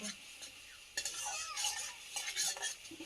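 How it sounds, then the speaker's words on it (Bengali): Spice masala fried and stirred in a pan for khichdi, a faint sizzle under soft scraping and clinking of a spoon, with a few louder stirring strokes spread across the short stretch. "ভালো করে ভেজে নেব মশলাটা"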